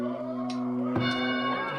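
A town bell struck in the video game Townsville, a single ringing strike with sustained tonal overtones that decay slowly, fairly loud against a steady musical background.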